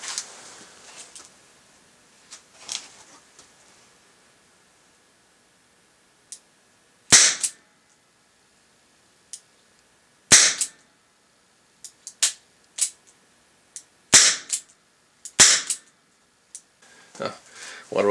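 Sharp, loud reports from a revolver firing Speer plastic bullets indoors, a handful of isolated shots spaced several seconds apart in a quiet room, with faint talk between them.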